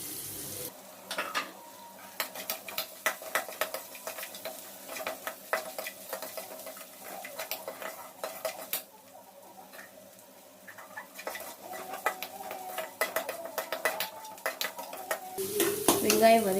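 Steady sizzling in a pan with repeated scraping and stirring strokes, close up and moderately quiet, as salted onions fry in oil over a medium flame.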